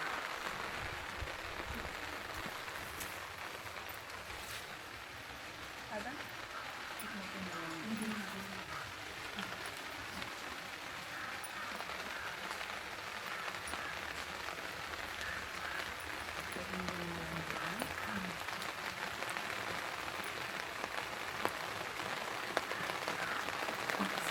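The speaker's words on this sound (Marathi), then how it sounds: "अरे पाऊस मोठा आला" Heavy rain pours steadily during an outdoor Vat Purnima puja in the Konkan, a dense continuous hiss throughout with faint voices and murmurs underneath.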